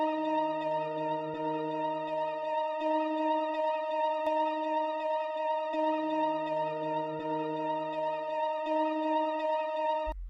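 Synth melody rendered, stretched to four bars and given a halftime effect in FL Studio, a bright bell-like tone with wavering upper harmonics and long sustained notes over a slow low line, steady and alone.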